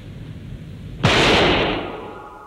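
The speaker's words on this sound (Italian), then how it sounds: "ho sentito uno sparo" A single loud gunshot in the final scene of the 1969 film They Shoot Horses, Don't They?, a sharp crack rising from a quiet background into a long, broad echoing decay.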